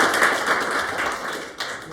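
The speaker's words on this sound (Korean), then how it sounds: "예, 박수 한번 주세요." Brief audience applause at an indoor lecture, a quick scatter of hand claps at moderate level.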